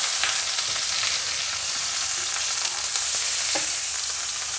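Meat searing in a very hot pan, a loud continuous hiss and crackle held close, with a few faint clicks, steady from start to finish.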